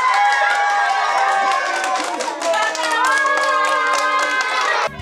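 Children cheer and clap as Santa Claus arrives carrying gift bundles at a Christmas Eve gathering, a loud, steady wash of young voices and hand claps that holds throughout, then cuts off abruptly at the end.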